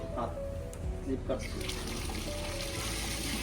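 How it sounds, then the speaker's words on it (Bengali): Water is poured from a mug for a bath at a tap area in Vrindavan, a few brief splashy pours heard close under near-continuous talking. "দুই মগ জল ঢেলে ওকে স্নান করিয়ে দেবে"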